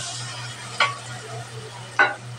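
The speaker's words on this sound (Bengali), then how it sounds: "পেঁয়াজটা ভালোভাবে ভাজা হয়ে গেছে" Onions frying with spices in a pan for a chicken and potato curry: a steady sizzle with two short, sharp stirring scrapes, close and alone.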